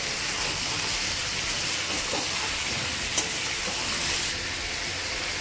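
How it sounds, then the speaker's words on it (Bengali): Chicken frying lightly in a pan, a steady, dense sizzle hissing from start to finish, close and even, with one brief sharp crackle near the middle. "চিকেনটা দিয়ে কিন্তু আমরা কিছুটা ভেজে নেব।"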